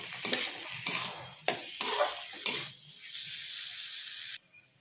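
Spices with hand-crushed kasuri methi fry in a pan for an aloo soyabean bari curry, several sharp scraping stirs of a spoon over a continuous sizzle that fades out at the end.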